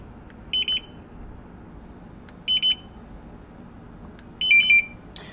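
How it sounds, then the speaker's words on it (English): A handheld barcode scanner gives three short bursts of high-pitched electronic beeps, evenly spaced about two seconds apart, confirming it was programmed for a carriage return and line feed suffix; no one speaks. "That series of beeps allows you to know that the scanner has been programmed correctly."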